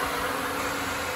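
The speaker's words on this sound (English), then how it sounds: "So if I turn it all the way down to zero, the fan should come on." A new electric radiator fan in a Triumph Stag with a Ford Essex 3L V6 runs steadily close by, giving a continuous whirring drone with broadband blowing noise and no pauses.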